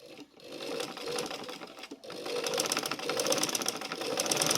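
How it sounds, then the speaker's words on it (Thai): A sewing machine runs close by, stitching fabric near a buttonhole in a fast continuous whir with brief pauses, gaining speed toward the end. "หลังกระดุมเนาะเราก็ใช้จักเย็บเลยตรงนี้นะคะ"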